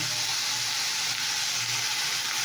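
Dal sizzles steadily as it fries in a pan with turmeric and salt, and the spoon stirring it adds texture to the close, continuous crackle. No one speaks.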